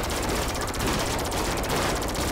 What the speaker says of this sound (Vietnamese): Cái laser này thì nó mạnh hơn khẩu MG chút xíu nha